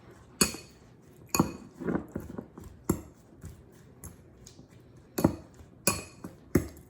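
Salad with croutons being tossed in a bowl, giving a string of sharp clinks and scrapes of utensils against the dish, irregular and fairly close, with soft rustling between hits.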